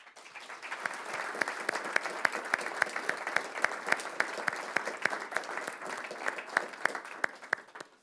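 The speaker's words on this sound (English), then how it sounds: "as you can see from the round of applause that you received, this was a very powerful and well-received speech" Sustained audience applause fills a hall after a foreign minister's speech on Europe, many hands clapping steadily at moderate distance for several seconds before tapering off at the end, with no voices over it.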